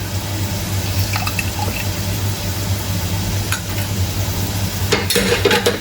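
A spoon stirs a vinaigrette in a bowl, giving a steady close wet swishing and clinking, with a few sharper scraping knocks toward the end.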